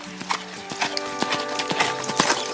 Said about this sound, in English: She's riding 15-year-old Goober, a quarter horse.